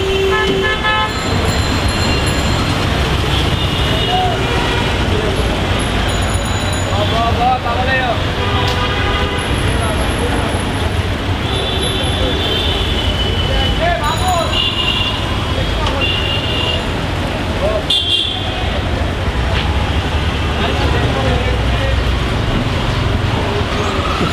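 Dense roadside traffic near a government bus stop in Bangladesh, with buses repeatedly honking, near and far, over a constant loud roar of engines and passing vehicles, and someone talking throughout.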